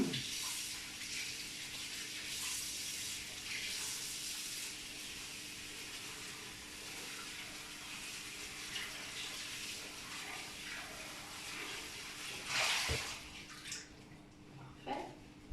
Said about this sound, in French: je vais aller rincer mon moule brioche 2 litres à l'eau tiède